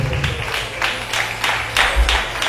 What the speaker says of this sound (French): Abodé, qu'on applaudit s'il vous plaît